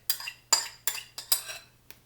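A metal spoon picked out from among dishes, five or six sharp clinks and clatters at fairly even intervals, close and clear with no talking.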